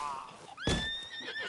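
A horse whinnies in Red Dead Redemption 2, a bright, falling neigh rising out of quieter game ambience, loud and close, with a faint voice around it.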